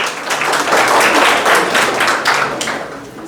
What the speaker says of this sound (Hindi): ताली बजाए इनके लिए।